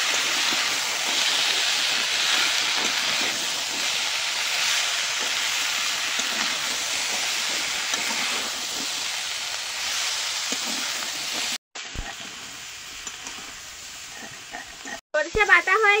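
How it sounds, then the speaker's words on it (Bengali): Prawns, already fried and tossed with turmeric, sizzle loudly in hot oil in a pan in a steady, dense hiss for about twelve seconds, followed by a quieter stretch with a couple of brief clattering knocks. "ভেজে রাখা চিংড়ি মাছ, এবার একসাথে ভালো করে কষিয়ে নেব।"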